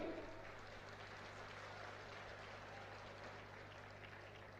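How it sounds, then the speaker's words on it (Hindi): Applause from a crowd at a political rally in Dausa, Rajasthan: a faint, distant, continuous wash of clapping that holds steady throughout, with no voices over it. "बजाइए ताली।"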